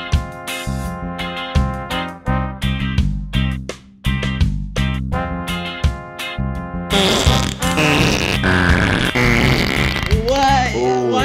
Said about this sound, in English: Why are you doing the farting?